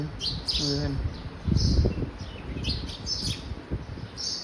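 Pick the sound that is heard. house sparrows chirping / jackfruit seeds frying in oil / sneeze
house sparrows chirping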